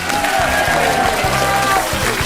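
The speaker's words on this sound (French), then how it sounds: "Je les entends, nombreux, nombreux pour applaudir Christine Bravo," A large studio audience at a comedy festival in Alpe d'Huez claps loudly and continuously, a dense, steady wash of applause filling the whole short stretch.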